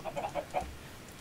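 A few quick clucks from a chicken in Minecraft, short and close, followed by quiet.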